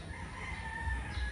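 A White Kelso rooster crows loudly and close at a gamefowl farm, one sustained cock-a-doodle-doo with other chickens faintly clucking behind it.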